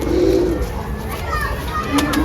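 Soft, low coos from a red china pigeon at the start and again near the end, with voices chattering in the background.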